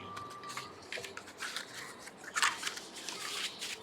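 Paper packaging being folded by hand, with soft crisp creasing, rubbing and light crinkling in quick irregular bursts, close and fairly quiet.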